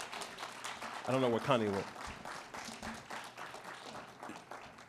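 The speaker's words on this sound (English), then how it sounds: "This is a round of applause." An awards luncheon audience claps in a round of applause, a broadband patter running steadily beneath a loud voice that speaks throughout.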